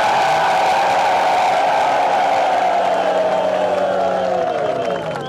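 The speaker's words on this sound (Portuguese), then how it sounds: "uma salva de palmas para o nosso grande Deus" A large outdoor crowd at a political campaign rally march in Pemba, Cabo Delgado, Mozambique, applauds and cheers in a loud, sustained wash of clapping and voices that fades slightly at the end.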